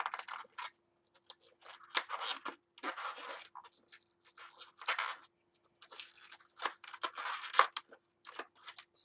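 Scissors snipping and handling a twisted latex balloon during balloon-animal making, a series of close, crisp snips and rubbery scrapes in irregular bursts separated by brief silences.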